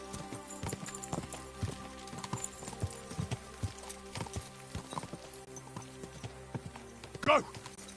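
A horse's hooves clip-clop at a steady walking rhythm in the medieval game Kingdom Come: Deliverance II, close and moderately loud, with a brief whinny-like burst near the end.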